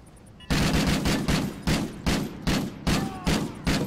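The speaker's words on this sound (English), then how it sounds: "They're all shooting at each other." Rapid bursts of video game gunfire as players shoot at each other in a round-based shooter match, about eight sharp loud volleys in a steady rhythm, close and dominant with no talking over them.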